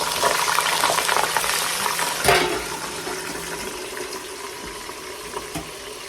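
Potatoes dropped into heated oil, a loud sudden hiss and sizzle that bursts up then settles into a steady bubbling crackle, close and continuous.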